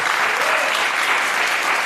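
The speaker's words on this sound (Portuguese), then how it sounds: "Aplauda o Senhor Jesus." Church congregation applauding at a Portuguese-language service, a dense, loud, continuous wash of clapping from many hands that fills the whole moment without a break.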